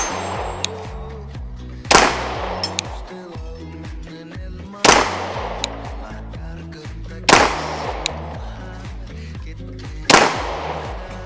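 Glock 20SF 10mm pistol firing Defender rounds outdoors, four loud sharp reports spaced a few seconds apart, each ringing out with a short echo, a faint hum between shots.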